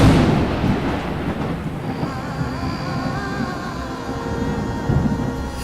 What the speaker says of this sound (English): A dark and terribly strange storm began to blow suddenly from the east.